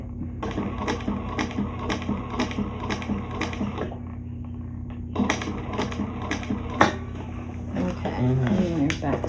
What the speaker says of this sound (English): Okay, and there's back stitching.